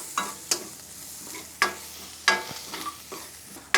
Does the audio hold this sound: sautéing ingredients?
yes